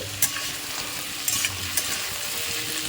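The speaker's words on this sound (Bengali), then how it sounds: "পেঁয়াজ আদা রসুন টমেটো শুকনো লঙ্কা একটু ভেজে নিচ্ছি এর মধ্যে দিয়ে দিচ্ছি কটা কাজু বাদাম" Onion, ginger, garlic, tomato, dried chilli and cashews fry in a pan, with a steady close sizzle broken by a few brief stirring scrapes, and no talking.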